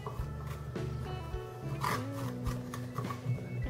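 A spoon scrapes the stringy pulp from the inside of a cut pumpkin, giving close, rough rasping strokes in short irregular bursts, with a few brief squeaky scrapes against the rind.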